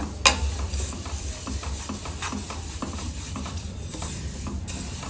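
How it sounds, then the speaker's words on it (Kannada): Sesame seeds roast and rustle in a pan as they are stirred, a steady dry sizzling scrape with occasional sharper ticks, close and continuous with no voices. "ಎಲ್ಲ ಎಳ್ಳನ್ನು ಇದೇ ಥರ ಹುರ್ಕೊಳ್ಳೋಣ"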